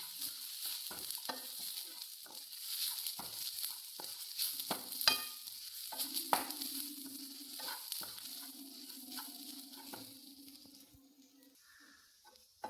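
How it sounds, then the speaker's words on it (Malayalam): Fish curry masala with fenugreek seeds is stirred in a frying pan: irregular spatula scrapes and taps over a soft, crackling sizzle, close by and fairly quiet. "ഇങ്ങനെ ഇളക്കി കൊടുത്തുകൊണ്ടിരിക്കുക"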